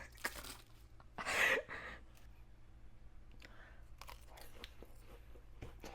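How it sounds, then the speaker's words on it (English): Someone bites into hot, crunchy food fresh from the oven, part of a high-fiber meal. There is one sharp, loud crunch close to the mic, then quiet chewing noises and faint rustling. "Oh, you hear that crunch?"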